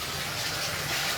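Water poured into a pan of kofta curry gravy on the stove, a steady close rushing gush of liquid that runs unbroken and alone for about a second.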